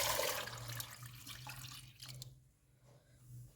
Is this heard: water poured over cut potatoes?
yes